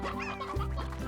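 Hens in the Slime Rancher game cluck in a short burst, with a low, steady tone that swells midway and runs under the clucks.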